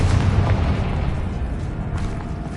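A Confringo blasting spell from the video game Hogwarts Legacy explodes in a loud, rumbling boom that fills the whole stretch and slowly decays, with no talking.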